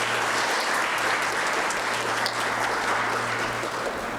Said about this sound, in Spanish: Un fuerte aplauso, por favor, para esto.